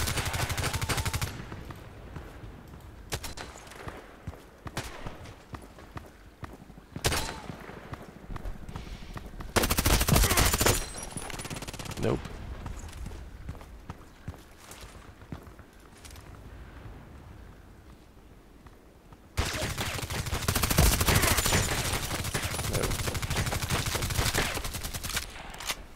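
Repeated automatic weapon fire in the online shooter Contract Wars, with loud close bursts of varying length spread across the stretch, some longer sustained volleys and quieter gaps between.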